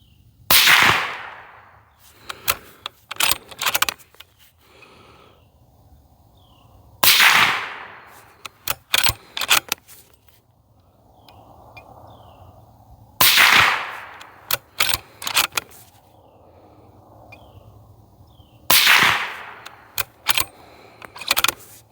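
Four loud, sharp rifle shots from a Ruger American short-barreled bolt-action rifle in 300 Blackout, spaced several seconds apart, each followed by quieter clicks and clatter of the bolt being cycled.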